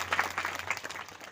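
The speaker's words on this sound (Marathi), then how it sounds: "जोरात टाळी वाजवा" An audience at a kirtan claps together in a brief, lively burst, the hand claps fairly close and uneven, with a low steady hum underneath.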